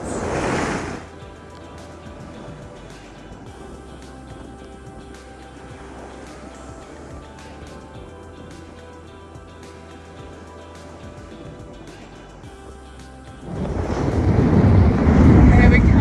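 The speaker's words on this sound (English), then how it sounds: "And we're coming in this crazy wild weather." Gusty wind buffeting the microphone and surf rushing past a sailboat at speed in rough weather off Fiji, loud bursts at start and end around a quieter steady stretch.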